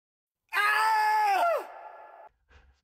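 A single loud, piercing scream holds for about a second, then drops into a lower fading wail, followed by a faint soft thump.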